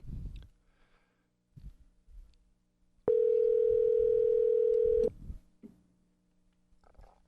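A telephone line calling out to a guest gives one loud, steady tone of about two seconds, with faint room noises and brief murmurs before and after.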